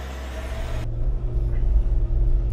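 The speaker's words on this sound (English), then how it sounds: "we are cruising along here in the Grenadier at moderate speed, so we're on a two track" An Ineos Grenadier off-road prototype cruising at moderate speed along a dirt two-track, giving a steady, close, low engine and road rumble with broadband wind or tire noise through the opening moment, no talk.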